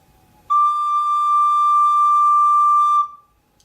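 A recorder holds a single steady high D for about two and a half seconds, a pure, whistle-like tone that starts and stops cleanly, close up with no talking.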